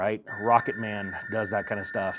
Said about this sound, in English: Sorry about the phone. We'll just have to deal with it ringing for a second until somebody answers it.